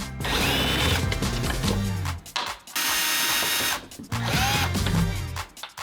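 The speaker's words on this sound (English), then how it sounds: "We're going to use a 10mm socket here and here, undo those bolts" A ratchet with a 10mm socket undoes tailgate bolts on a GMC Sierra MultiPro tailgate, giving close, loud bursts of rapid clicking and whirring separated by brief pauses.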